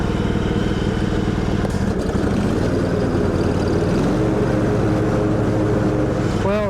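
A Craftsman GT5000 lawn tractor with a Kohler Command engine runs close by, a steady loud mechanical drone with a faint wavering pitch as it drives a lap.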